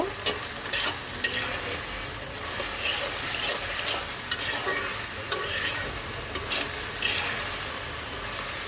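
Ridge gourd stirred into hilsa fish head curry in a pan, a spoon scraping rhythmically through a constant loud sizzle and steam hiss, with regular clicks of utensil on metal.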